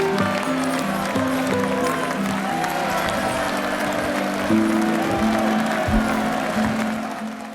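Sustained clapping and crowd noise fill a Henry VIII court scene, loud and continuous, with dense hand claps layered over tonal voices or music.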